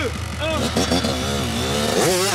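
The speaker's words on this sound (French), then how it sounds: "Et le prochain qui va cabrer, c'est toi, Lucas." A motocross bike engine revs hard and loud during a wheelie, its pitch climbing and dropping in several surges as the throttle is worked.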